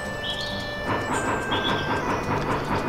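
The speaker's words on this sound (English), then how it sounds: "Come on, little choo-choo train." Steam train running in the video game Bounty Train, a steady rhythmic chugging and clatter with a sustained whistle-like tone over it, loud and continuous with no talking.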